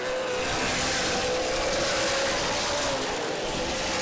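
Stock race cars roar around the oval at Angola Motorsport Speedway during a 100-lap feature, a continuous loud, dense engine drone with a sustained high whine, and a commentator's voice faintly mixed in.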